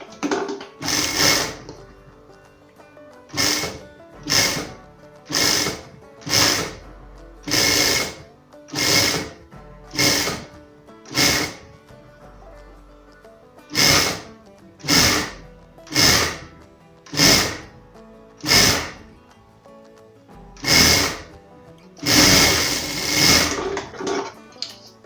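A sewing machine stitching a normal seam about 1 cm from the edge, joining the side panels and gusset of a welder-style hood; loud, close bursts of mechanical whirring come in a steady series of short runs separated by brief pauses.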